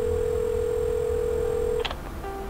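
A telephone dial tone holds steadily, then cuts off into a few quick keypad dialing beeps, heard alone in the puzzle game Assemble With Care.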